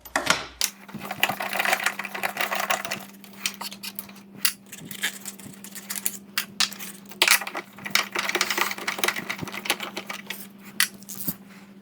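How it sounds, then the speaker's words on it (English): Nuts being removed at the top of a front air strut on a 2010–2013 Porsche Panamera, with repeated close metallic clinks and rattles of wrench and hardware over a steady low hum, no talk. "I'm just disconnecting these nuts here at the top."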